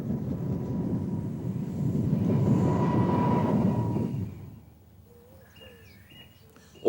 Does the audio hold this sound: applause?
no